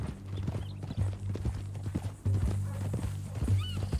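Horse hooves clip-clopping along with a short whinny in the Red Dead Redemption 2 video game, close and moderately loud, the hoofbeats irregular over a low rumbling background.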